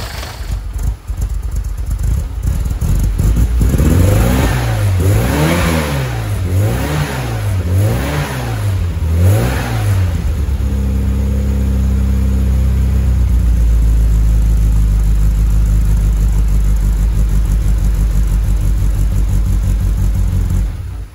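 A car engine just after a cold start, revved in several quick rising and falling pulls, then settling into a loud, steady, rumbling idle up close.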